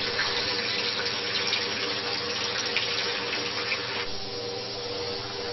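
Tap water runs steadily over jewelry held beneath it while stones are cleaned in a jewelry repair shop, a loud continuous gushing stream that shifts slightly in tone partway through, with no speech.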